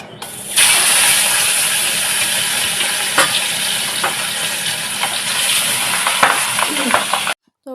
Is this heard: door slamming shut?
no